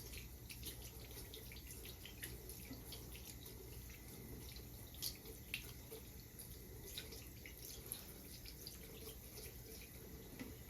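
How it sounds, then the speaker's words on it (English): Water runs into a bathroom sink as someone splashes it on their face, a faint steady trickle with small splashes and drips, close and quiet, no talking. "I'm just going to splash water."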